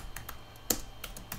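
Keystrokes on a computer keyboard as a command is typed, a handful of light, irregular clicks with one sharper, louder press in the middle, close and alone with no talk.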